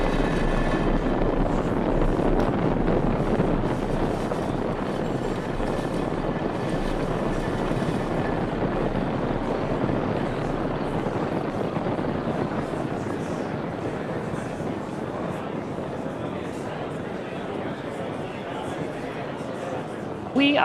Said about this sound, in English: Engines full power. And liftoff of Transporter 8. Go Falcon, go Transporter.